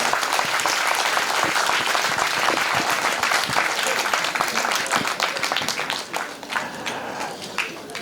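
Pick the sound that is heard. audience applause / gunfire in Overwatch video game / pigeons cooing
audience applause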